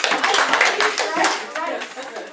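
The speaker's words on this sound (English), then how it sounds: "if you can hear my voice clap right 3 times" Students in a classroom clap in response to their teacher, a few sharp group claps close by mixed with chatter and voices.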